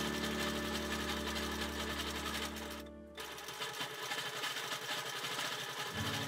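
Steady whirring hum of a quilting machine stitching a raw edge appliqué project in a small sewing space, running continuously with a slight drop in pitch and speed midway.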